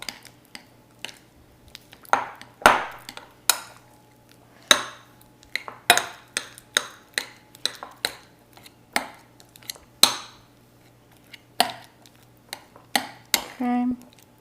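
A spoon works softened ingredients together in a mixing bowl for cinnamon roll frosting, making close, irregular clacks and scrapes against the bowl in quick bursts, with no talking.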